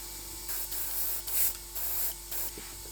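A Gaahleri airbrush sprays Molotow white primer onto a miniature bust in several short close hissing bursts with brief pauses between them.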